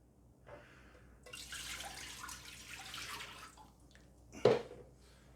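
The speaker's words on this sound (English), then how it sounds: "We'll get the water in." Water is poured into a Russell Hobbs all-in-one multi cooker for cooking rice, a soft splashing gurgle lasting a few seconds, close and fairly quiet, ending with a small clunk.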